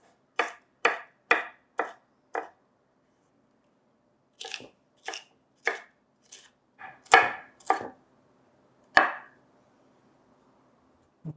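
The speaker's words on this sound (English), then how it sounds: "I'm basically just trying to cut around the edges of that seed center, just to eliminate the mess" A knife cuts through fruit flesh on a cutting board, working around the seed at the center while preparing enchiladas. There are about a dozen crisp, separate cuts, a quick run of five, then a pause and a second run, loud and close, with no talk.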